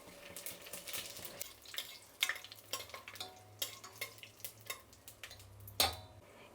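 Whole garam masala spices fry in ghee and oil inside a pressure cooker: quiet crackling sizzle with a string of sharp spoon clicks and scrapes against the metal, close and without talk.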